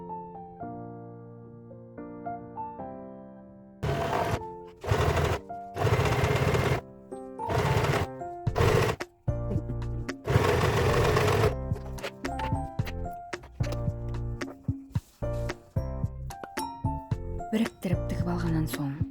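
A sewing machine stitches the edges of a skullcap, its bursts of rapid mechanical whirring starting and stopping in several runs over background music.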